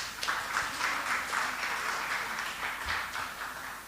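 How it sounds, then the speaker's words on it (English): Audience applause at an awards recognition for civic service and partnership, a modest, fairly faint spread of clapping from a small crowd that carries on evenly for a few seconds with no speech over it. "Give them a round of applause."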